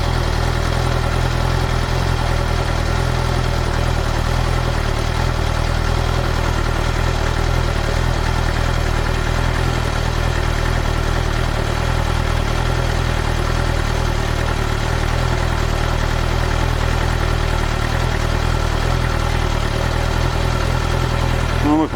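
A Suzuki GSX-R 750 motorcycle engine idles steadily with a low, throbbing exhaust rumble, loud and constant for the whole stretch, no voices.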